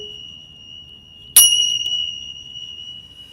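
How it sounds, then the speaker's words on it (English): A single bell is struck once during a psychic reading to clear the energy, a sharp bright strike whose clear ringing tone lingers and fades over a couple of seconds in a quiet room. "I'm gonna go ahead and ring the bell"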